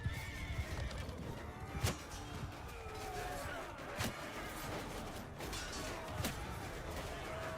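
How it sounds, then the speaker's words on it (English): A horse in the Mount and Blade video game neighs and whinnies repeatedly amid battle, with hoof clops and faint mechanical creaks in the mix, the calls standing out at moderate volume. "And we only hit the horse."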